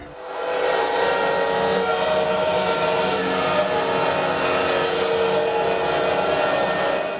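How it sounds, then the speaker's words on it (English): A train horn and a passing train are played as a prank outside an apartment: one sustained, steady rumble with a droning horn-like tone, loud and continuous throughout, with no voices. "get a train going through here."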